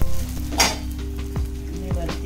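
Sabudana thalipeeth frying in ghee on a hot tava over lowered gas, a steady close sizzle and crackle with a brief louder burst as the flatbread lands, a few soft utensil clinks and a faint hum underneath.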